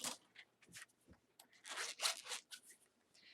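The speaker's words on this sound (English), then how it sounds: "I need to get a scissors and cut this in half" Scissors cut through store-bought lace for a craft crown, giving close, quiet crisp snips and rustles in irregular bursts, several quick cuts clustered together.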